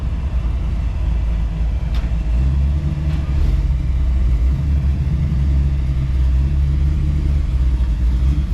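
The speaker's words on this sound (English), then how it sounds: "We got another 55 Chevy truck pulling in." 1955 Chevy truck rolling in at a TriFive car show, its engine a steady, loud low rumble that holds throughout with no talking over it.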